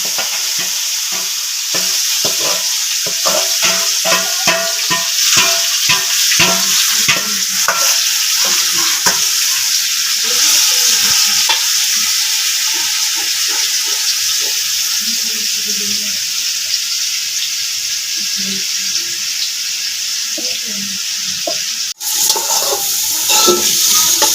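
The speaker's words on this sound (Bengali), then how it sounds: "এই তেলের মধ্যে আমি মাংসটা দিয়ে দিলাম।" Meat frying in hot oil for biryani, a steady loud sizzle with repeated clinking and scraping of stirring in the pot, close up and continuous.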